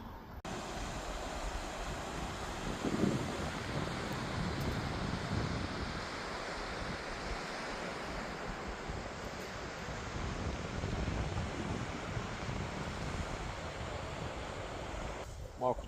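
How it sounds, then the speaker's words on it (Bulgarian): Wind rushes steadily across the microphone, a continuous low roar that barely changes for the whole stretch. "малко духа, не знам колко добре се чува"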